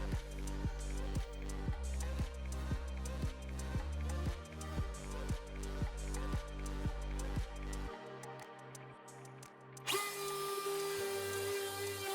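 A router cutting mortise grooves into wood for mid-century end tables, with a loud rhythmic run of about a dozen quick bursts, then a lower steady hum, and a high-pitched whine starting near the end.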